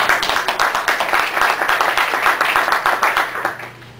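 A conference audience at a 2009 CDC public health presentation applauds steadily for about three and a half seconds, a dense, close wash of many hands clapping that thins out and fades at the end.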